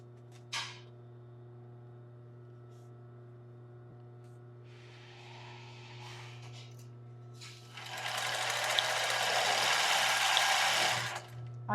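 A sewing machine stitches a lace bra, a soft steady whir that swells into a louder, denser run of stitching in the later part, with a brief click near the start and no talking.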